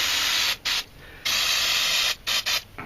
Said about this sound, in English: And spray brake cleaner just to make sure.